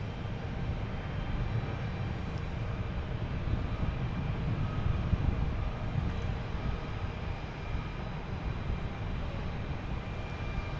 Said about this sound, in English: Next to arrive is American Airlines, and it's 737 coming in from Reagan.